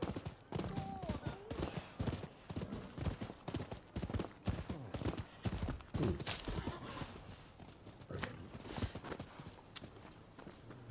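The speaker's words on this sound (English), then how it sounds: "It's a damn horse." Horse hooves clip-clop in Rise of the Ronin, a dense run of rapid hoofbeats with busy game sounds layered over them, loud and steady throughout.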